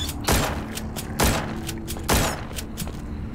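Gunfire aimed at zombies in The Walking Zombie 2 rings out as three loud, evenly spaced shots, each a sharp crack with a short decay over a steady low background.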